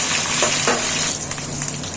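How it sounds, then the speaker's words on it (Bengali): Cauliflower florets fry in hot oil until reddened, giving a close, continuous sizzle with a couple of brief crackling bursts and no talking. "এইভাবে সব ফুলকপি ভাজা হয়ে গেল"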